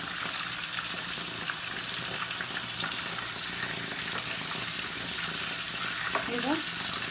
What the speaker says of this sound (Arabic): نقلبها على الوش التاني كده عشان تاخد الصدمة بتاعتها وما تجيبش ميتها